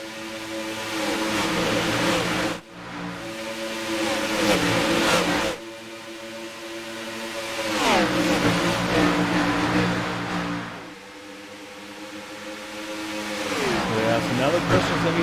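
Race cars on a superspeedway in a racing game sweep past in repeated waves of engine roar, each pass rising and then dropping in pitch, while a commentator talks over them.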